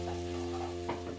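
Ginger garlic paste sautés in a pan for chilli chicken, a soft, fairly quiet sizzle under a steady hum, with a couple of faint stirring scrapes toward the end.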